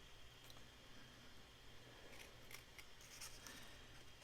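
Scissors trim a paper heart for a cascading mini album, making a few quiet snipping and rustling sounds close by over a faint background hiss.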